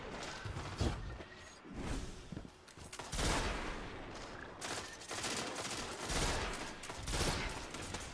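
Pulse rifle firing in Destiny 2, rapid clustered bursts of shots repeating across the span, close and fairly loud, mixed with other gunfire and whooshing movement, with no talk.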